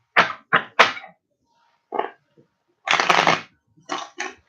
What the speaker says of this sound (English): So we'll do 11 shuffles and then 11 cards.